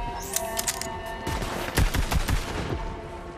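A shotgun fires repeatedly in the Borderlands 3 video game, a rapid burst of loud close blasts and cracks in the middle with hectic game noise around them.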